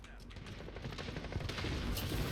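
Rapid gunfire and explosions crackle through a Call of Duty Modern Warfare multiplayer match, dense bursts of shots at moderate loudness with a player's voice faintly mixed in.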